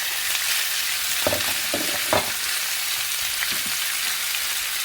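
Onion frying in a little oil alongside beef for a stir-fry, with a steady, close sizzle throughout and a few brief scraping stir strokes in the middle.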